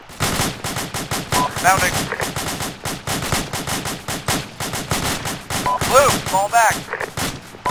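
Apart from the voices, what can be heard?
suppressive gunfire on a bunker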